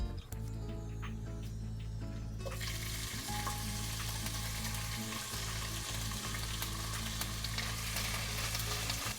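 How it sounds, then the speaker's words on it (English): Onions sautéing in butter with cumin seeds in a pan for Japanese home-style curry, a loud continuous sizzle that jumps up sharply a couple of seconds in and holds steady, with a low background hum. "add the onions first and saute them well until they turn a nice golden brown"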